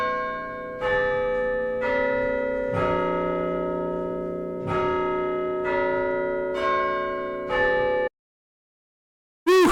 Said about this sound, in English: be sure to ring that bell